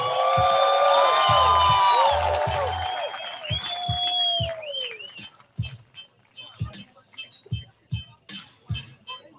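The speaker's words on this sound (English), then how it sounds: "Give him a round of applause, folks." A rodeo audience at a bull riding event in Tombstone, Arizona applauds and whoops after a ride, a bright burst of clapping and high cheers that thins out into scattered faint claps and knocks.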